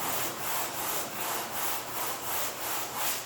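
Body filler putty on a car is sanded by hand with 120-grit sandpaper, rhythmic rasping back-and-forth strokes, about nine in a row, close and even.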